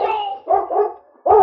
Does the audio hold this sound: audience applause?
no